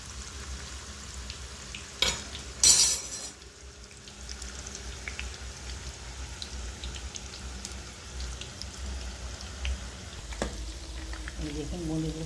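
Boondi made from gram-flour batter fries in hot oil with a continuous bubbling sizzle, a few louder bursts and clatters near the start, while a voice talks at times.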